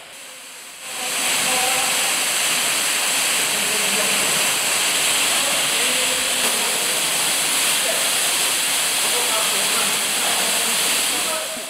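A waterfall pours inside Dan yr Ogof cave in wet conditions, a loud, steady roar of falling water that rushes on without a break, with no talk over it.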